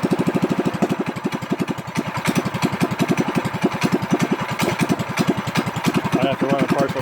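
A Predator 212 engine swapped into a Monster Moto minibike idles steadily and close by, a rapid even chug running throughout with a slightly uneven, struggling note near the end.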